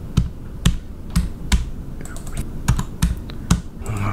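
Computer keyboard typed on while writing C# code, about a dozen sharp, close key clicks in an uneven rhythm, with faint speech in the background.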